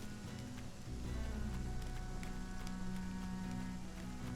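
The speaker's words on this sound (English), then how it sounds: "And the rain looks like it's letting up a little bit." Steady rain hisses over the ground in the survival video game ASKA, a dense constant wash with faint scattered drops and a low rumbling bed beneath it, with no talking.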